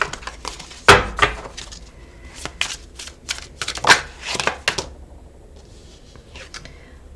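Tarot cards are shuffled and cut by hand in a run of crisp, close riffling slaps and flutters with irregular rhythm, then fading to a few soft taps.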